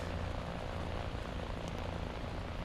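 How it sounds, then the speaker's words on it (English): Damaged propeller aircraft engine in a combat flight video game, losing RPM: a steady, loud droning roar with a rough low-end rumble, continuous throughout with no speech. "I can hear that his engine is like, the RPM is going down"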